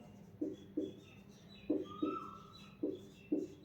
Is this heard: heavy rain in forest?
no